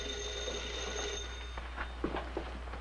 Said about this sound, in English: That's the phone, Junior.